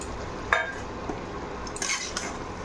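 Fried soya chunks stirred in a cooking pan with a metal utensil, giving a few sharp scraping clinks against the pan over a soft background hiss, brief and close.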